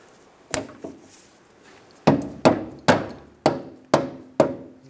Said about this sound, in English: Just take a dead blow hammer just give it a couple taps, get it lined up.